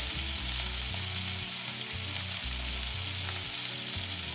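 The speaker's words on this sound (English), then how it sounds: "Now you throw that chicken in there, you hear it just sizzling" Chicken sizzles loudly and continuously in a hot non-stick wok while cooking Thai pad krapow, a dense crackling fry with bubbling pops and no voices.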